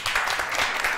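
Studio audience applauding a guest arriving on a Pakistani talk show, a brief, dense burst of clapping that stays steady throughout.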